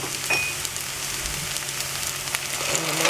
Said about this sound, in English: To our turkey that is frying with the onions and garlics